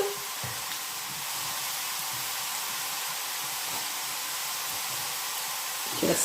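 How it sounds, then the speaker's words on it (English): Potatoes frying in hot oil on a cooker, a steady bright sizzling hiss that holds constant throughout, close and moderately loud, with a few faint clinks and no talk. "just leave it to fry as it is"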